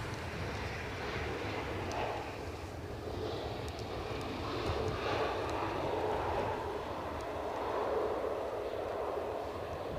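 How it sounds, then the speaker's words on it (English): A British Airways airliner lands at Edinburgh Airport in a storm, heard as a steady, fairly distant roar of jet engines blended with gusting wind noise that holds for the whole stretch without any voices. "You've got a BA Heathrow coming in. Take the land very gently."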